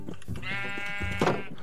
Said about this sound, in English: we got a full family here with one black sheep